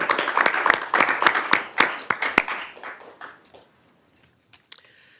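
An audience at an Anoka County Board of Commissioners candidate event gives a round of applause, with dense, close clapping that fades out over a few seconds.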